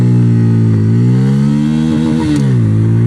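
A Bajaj Pulsar N160 motorcycle pulls away in first gear, its engine loud and close with a rising, steady harmonic drone that wavers through the run, no voices over it.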